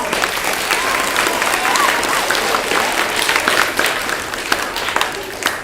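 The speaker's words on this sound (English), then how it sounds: "Let's give them a round of applause." Applause from an audience at a library awards ceremony honoring 3rd and 4th graders, dense continuous clapping with crowd murmur throughout, loud and close, with no one talking over it.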